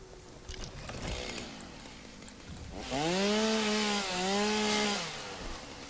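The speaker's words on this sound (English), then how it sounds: "Okay, let's try the chainsaw." A chainsaw cuts into a tree in the Satisfactory video game, a steady buzzing engine whine that rises and dips in pitch, loud and close, with faint thumps before it starts.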